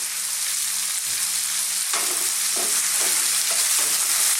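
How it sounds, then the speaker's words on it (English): Potatoes and finely chopped red onions fry in a pan for a chicken potato curry, making a loud, steady hiss with several stirring scrapes in the second half. "So I want to fry these potatoes."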